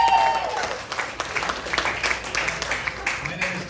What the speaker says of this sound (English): This is a great crowd, so give yourselves a hand.